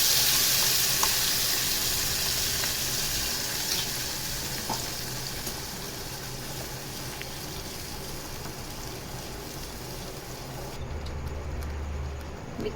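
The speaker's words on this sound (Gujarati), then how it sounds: "તેલ થાય એટલે તેમાં આપણે જીરું નાખશું, એક નંગ તમાલપત્ર નાખશું અને હવે આપણે જે પીસી છે ગ્રેવી તે નાખશું" Ground gravy with cumin seeds and a bay leaf fries in hot oil for chole, giving a steady, close sizzle that eases slightly over time. No one speaks.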